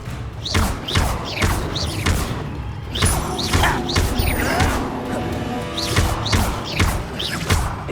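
Incendio fire spell cast over and over in Hogwarts Legacy, a run of heavy thumping bursts and crackling whooshes in quick succession, loud and close, with clattering impacts mixed in.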